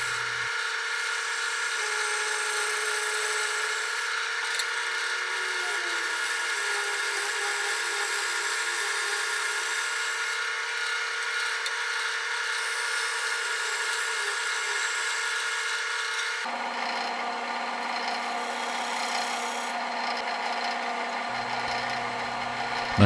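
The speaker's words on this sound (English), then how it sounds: "even with a great big 3/4 inch Carter & Son bowl gouge with a gentle touch, you can produce those fine hair-like shavings" A 3/4 inch Carter & Son bowl gouge cutting a figured ambrosia maple bowl spinning on a lathe, a steady high hissing whir of fine shavings that holds unbroken for over twenty seconds, close and clear with a slight shift in tone late on.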